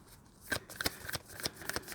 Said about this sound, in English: We're just going to shuffle now